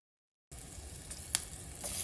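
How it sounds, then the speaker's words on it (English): Jamaican curry powder sizzling as it hits preheated oil in a pot, a steady close frying hiss beginning after a half-second of silence, with a brief stir scrape near the middle and no voices. "So my pot is preheated with oil and I'm adding my Jamaican curry."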